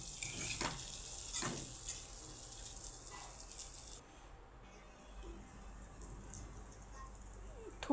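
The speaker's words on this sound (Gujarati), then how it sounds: "બધું સરસ મિક્સ કરી લઈશું।" Spinach paneer muthiya dumplings being stirred in a pan with lemon juice, a soft sizzle and scraping under steady frying hiss, with a few louder spatula knocks early on.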